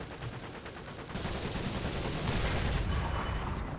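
A tank destroyer fires in the video game War Thunder amid a dense wash of gunfire and battle noise that grows louder partway through, with no talking heard.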